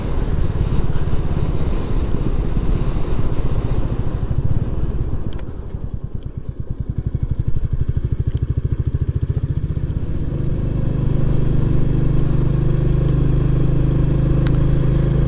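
A Royal Enfield Classic 350 motorcycle rides along a Derbyshire road with a steady, loud single-cylinder thump and wind rush, the engine note dipping and changing midway before settling back into a constant drone.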